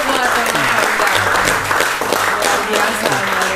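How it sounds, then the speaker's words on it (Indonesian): Dense, steady applause from a live audience at an event in Maluku with the regional military commander (Pangdam XV Pattimura), the clapping sustained and loud for the whole stretch with a voice faintly under it. "Tepuk tangan dulu buat"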